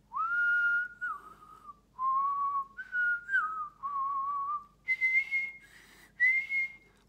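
Clear, close whistled tune in alternating phrases, some notes smooth and sustained, others brighter and breathier, with short pauses between phrases and no talking.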